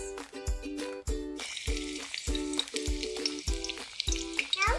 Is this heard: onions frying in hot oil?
yes